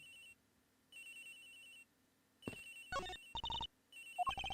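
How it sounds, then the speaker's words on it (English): A cell phone rings in the Ace Attorney Investigations video game, a looping electronic ringtone melody that repeats in clear bursts, followed by brighter chiming game sound effects near the end, with no talking. "Agent Hicks' phone. It's ringing from somewhere, sir."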